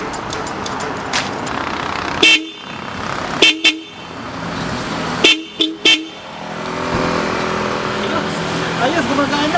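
Horn of a 2017 Nissan Navara pickup sounded in several short, loud honks, two single blasts then a quick double burst, over steady engine and road noise with people talking nearby.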